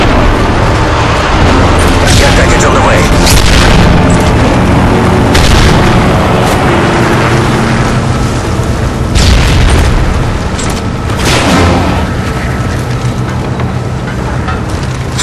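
Repeated heavy booms of Predator missile explosions in the Modern Warfare 3 video game, during a search and destroy match, roll on loudly and continuously, with dense rumbling blasts and bursts layered over the whole stretch.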